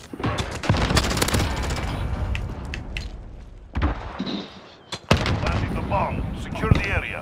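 Rapid bursts of Uzi submachine gun fire in a video game, loud close volleys in several clusters with short gaps, amid game noise and chatter.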